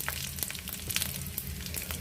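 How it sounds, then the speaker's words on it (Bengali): Hot oil crackles and sizzles continuously as cumin, bay leaf and dried chilli fry, with small sharp pops scattered through a steady frying hiss. "ফোড়নটা ভাজা হয়ে গেছে"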